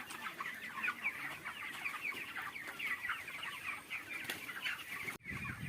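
A flock of 3,000 broiler chickens on a poultry farm, some sick with respiratory disease, keep up a soft, constant murmur of clucks and chirps. The sound is faint and distant, with a brief dip near the end.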